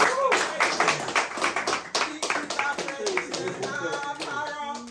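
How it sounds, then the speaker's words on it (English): A crowd claps in a burst of quick, overlapping hand claps, with voices and other sounds mixed in throughout. "Let's give a big clap."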